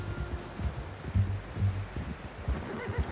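Horse hooves clip-clopping at a steady walking pace in the video game Red Dead Redemption 2, close and fairly soft, with occasional louder thuds against light ambient rustling.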